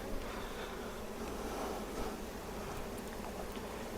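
Honeybees buzzing around an opened hive at a vineyard during an inspection, a faint, continuous hum close by with no talking.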